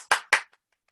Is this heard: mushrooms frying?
no